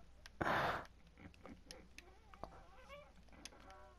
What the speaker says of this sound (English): Oh my God, it's a chicken.